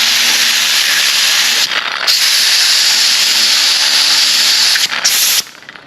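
A blast of compressed air spins a gel coat paint roller, a loud, continuous hiss with short dips and bursts where the airflow shifts, then it cuts off to quiet near the end.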